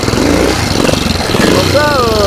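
Tobec vehicle's small engine revving up and accelerating, a steady mid-pitched drone that rises in pitch near the end, with people talking over it.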